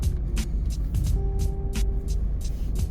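Road traffic at Solinad 2 in Nuvali, a steady low rumble of idling and creeping vehicles with faint intermittent hisses and a brief tonal hum, no talking.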